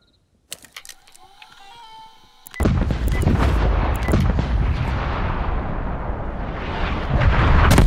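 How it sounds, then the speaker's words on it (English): An artillery strike in the video game Call of Duty Black Ops Cold War: a few sharp cracks, then a loud, sustained barrage of heavy rumbling blasts that keeps rolling to the end. "Artillery awaiting target coordinates"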